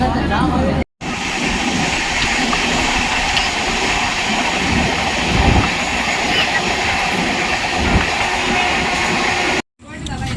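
A train runs steadily along the tracks after leaving Balasore station, with a loud, continuous rumble and rattle, and faint voices are mixed into the noise.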